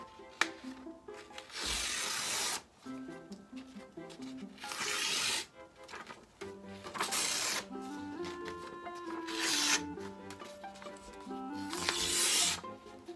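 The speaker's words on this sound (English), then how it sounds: "So I'm gonna go ahead and rip this up now" Sublimation paper is torn up by hand in several rough, rasping bursts of ripping, each a few seconds apart, close to the mic with a faint tonal hum underneath.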